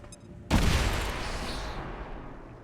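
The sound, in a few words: grenade explosion in video game XCOM 2: War of the Chosen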